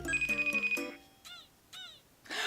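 A phone ringing on an outgoing call: a pulsing electronic ring fills the first second, then fades into a few faint, brief chirping sounds.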